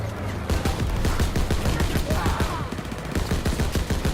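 Rapid bursts of rifle and machine-gun fire crackle loudly and continuously from a World War II shooter game firefight in a house, dense overlapping shots with no pauses.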